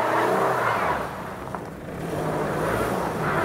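An AWD SUV accelerates hard up a snowy, icy hill, its engine roaring loudly and revving up and down in a sustained, strained surge with no voices.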